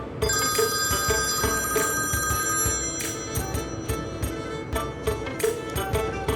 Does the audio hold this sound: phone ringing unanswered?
yes